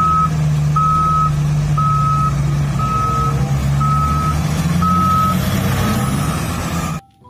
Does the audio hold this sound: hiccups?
no